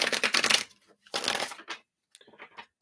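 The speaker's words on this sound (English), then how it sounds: "shuffle, shuffle, shuffle." Reading cards shuffled in bursts during a live free card-reading session, with crisp riffling flurries, a pause, another burst, then lighter scattered shuffles, close and fairly loud with no talk.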